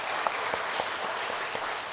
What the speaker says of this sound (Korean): 아버지들에게 큰 박수 한번 하겠습니다